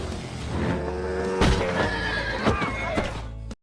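A horse struck by a motorbike whinnies loudly across a dense mix, with sharp thumps and a harsh, strained cry that carries to the end before cutting off abruptly.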